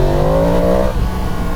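A Yamaha MT-10 motorcycle engine revs loudly and close, a steady deep growl that holds and then eases off after about a second.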